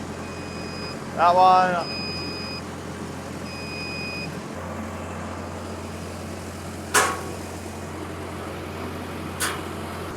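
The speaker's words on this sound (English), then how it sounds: "So over here at the control, I'll lift up these rear stabilizer legs." A Goodeng G30AU directional drill raises its hydraulic rear stabilizer legs with a steady low engine drone that shifts in pitch partway through. Electronic beeps sound early on, along with brief speech and a couple of sharp clicks.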